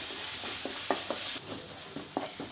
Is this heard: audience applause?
no